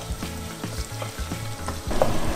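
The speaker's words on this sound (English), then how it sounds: "So you have to fry the onions till it's golden brown." Onions frying in oil until golden brown for mutton biryani, a soft, close crackling sizzle with irregular stirring sounds and a faint tuneful background.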